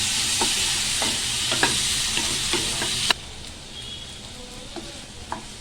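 Tomatoes sizzle and fry in a pan with a steady hiss, punctuated by clinks of a utensil stirring, then the sizzle quiets.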